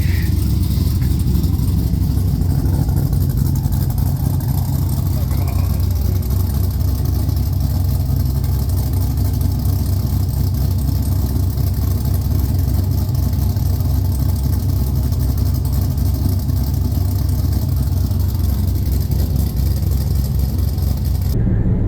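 A car engine with a newly installed exhaust idles with a deep, steady rumble, heard from inside the vehicle and holding constant with slight fluctuations throughout.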